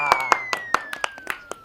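Scattered hand claps sound at a Gujarati comedy wedding farewell skit, about eight sharp claps at an uneven pace, with a steady whistle-like tone underneath.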